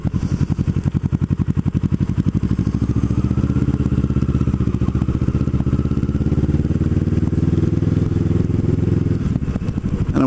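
Motorcycle riding along a seaside promenade between North Cape May and Cape May, its engine a steady close drone with rhythmic pulsing throughout, loud and continuous with no talk.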